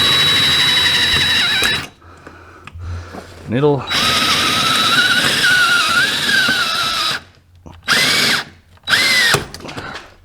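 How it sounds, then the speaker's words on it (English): Power drill whirring through an aluminum door on a Can-Am Maverick X3 UTV, loud and close, running in long bursts with short pauses and a brief squeal; someone speaks briefly. "Just twist it and then finish drilling."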